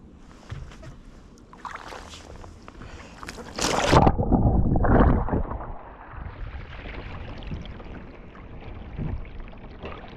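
A kayaker rolling over in chilly early-season water gives a heavy rushing splash and slosh near the microphone that swells for a couple of seconds, with lighter dripping and water movement before and after.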